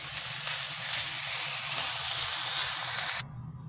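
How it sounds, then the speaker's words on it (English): Cabbage seasoned with salt and pepper stir-frying in a pan gives a loud, steady broadband hiss and sizzle for about three seconds, then cuts off abruptly to quiet room noise. "And stir fry it."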